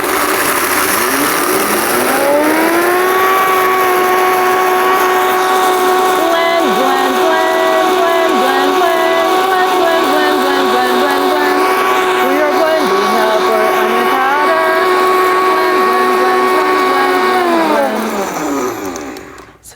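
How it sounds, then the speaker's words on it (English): Blender grinds dried onions into powder, a loud close motor whine that starts up, holds a steady high pitch with a rattling buzz for most of the run, then winds down at the end. "Simply replace the cap on your blender and we're going to blend this."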